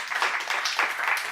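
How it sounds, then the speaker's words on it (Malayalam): An audience claps at a motivational talk, a steady dense patter of many hands close and fairly loud, with no voice over it. "ക്ലാപ്പ് അടിക്കണം."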